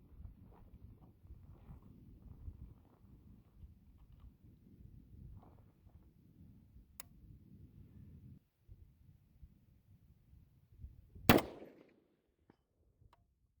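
A single sharp SCAR rifle shot fired at a 300-yard target cracks out loud and close near the end, ringing briefly over a steady low rumble of wind and outdoor noise.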